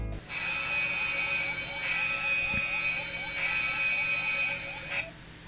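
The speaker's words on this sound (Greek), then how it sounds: "η κάμερα θα αρχίσει να ηχεί με τη μέγιστη ένταση μέχρι να την κλείσετε πατώντας ξανά το κουμπί" A repurposed old mobile phone acting as a remote camera rings at full volume, a steady, loud electronic alarm of sustained high tones with a quick warbling chirp pattern, lasting about five seconds before stopping.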